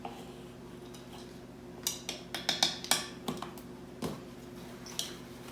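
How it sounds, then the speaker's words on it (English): A whisk mixes whole wheat flour and baking soda in a bowl, giving a quick burst of light, rapid metallic clicks and taps against the bowl followed by a few scattered ticks, close and clear with no talk. "Whisk them together"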